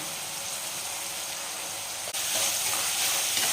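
Steady, close sizzling of tomatoes frying in a pan, a dense hiss that briefly dips and then continues a little louder, with no talking.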